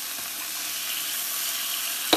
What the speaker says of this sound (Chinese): 然后用小火给它炒香，炒多红油